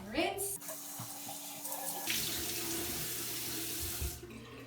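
Tap water runs steadily into a bathroom sink while a face is rinsed, a close, constant hiss and splash broken by brief shifts as hands move through the stream.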